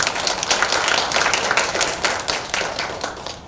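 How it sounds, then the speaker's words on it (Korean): A large audience at the opening ceremony of a forestry cooperative's garden academy in Pohang gives an introduced guest a big round of applause, dense and sustained for several seconds, fading slightly at the end. "한 분 한분 한 호명할 때마다 큰 박수 부탁드립니다"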